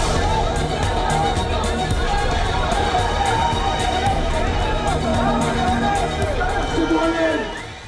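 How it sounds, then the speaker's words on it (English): A large crowd riots outside an army base in southern Israel, with loud continuous shouting, babble and running footsteps that fade slightly at the end. "A crowd gathered outside the army base in southern Israel and broke through the gates."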